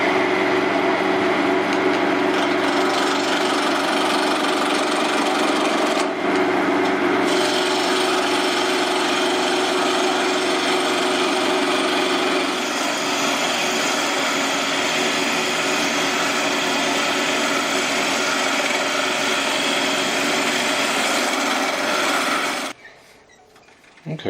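Cherry wood turned into a long cylinder on a lathe, a steady loud whirring hum with scraping tool contact running continuously for over twenty seconds before stopping abruptly near the end.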